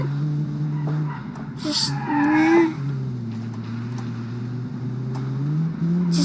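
A modern inline-four hot hatch in the BeamNG driving game runs with a fairly quiet, steady engine drone that rises briefly in pitch, while a short tire squeal cuts in. A voice is faintly audible.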